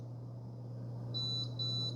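An Instant Pot Vortex Plus 6-quart air fryer gives two short, clear electronic beeps in succession over a low steady hum from the appliance.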